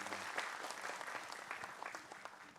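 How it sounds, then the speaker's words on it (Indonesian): Audience applause greets Ustadz Faris, a religious teacher introduced on an Islamic talk show stage, as a steady patter of clapping hands fills the room at moderate volume without speech. "Tepuk tangan buat Ustadz Faris, silakan."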